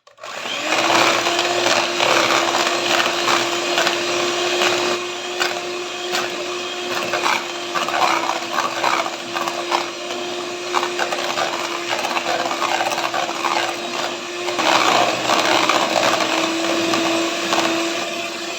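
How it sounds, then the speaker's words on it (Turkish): An electric hand mixer whirs steadily, whisking eggs and sugar, with a constant motor hum and clattering beaters against a bowl, running continuously throughout. "pürüzsüz hale gelinceye kadar mikserimle çırpacağım"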